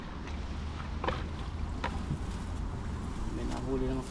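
A small fishing boat's motor drones steadily at close range, a low continuous engine hum with wind and water noise over it and a few faint knocks.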